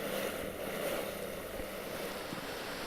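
Wind rushes steadily past on a cruising boat in cold weather, a broad continuous roar with low buffeting and rumbling water and engine noise underneath, no talk.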